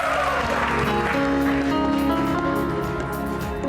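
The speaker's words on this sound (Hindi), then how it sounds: "बहुत सारी तालियां हो जाए" A crowd claps steadily in a dense wash of applause, with music starting underneath as it continues.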